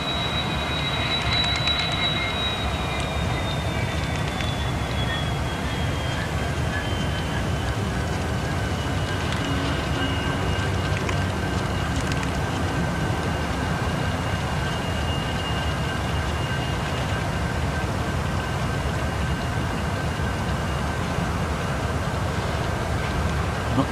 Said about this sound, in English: now the front locomotive, the leading locomotive, has been detached